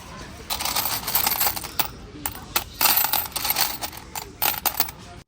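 Old coins at Lahore Fort are dropped onto a hard surface, making a rapid series of bright metallic clinks and jingles. The sound comes close and loud, in clustered bursts with short pauses between them.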